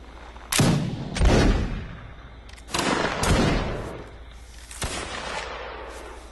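Musket volleys from a line of reenactors in a staged line battle, three ragged rolling volleys in sequence, loud and fairly close, each crack followed by a drifting rumble.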